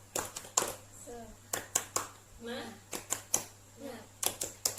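A children's class claps out a rhythmic 'tepuk semangat' routine, sharp hand claps arriving in quick bursts and patterned groups, with a teacher's and kids' voices chanting between the claps in a small, close room.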